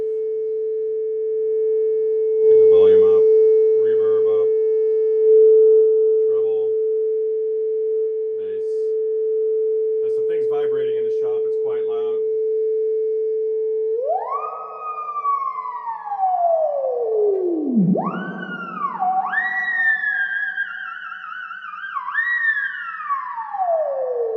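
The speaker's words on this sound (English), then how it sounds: "let's take a quick listen. 400 hertz, about 500 millivolts" A 400 Hz test tone at about 500 millivolts through a Vox AC30S1 amp: a steady, pure, loud hum with brief talk over it, followed by swooping, siren-like tones that bend up and down.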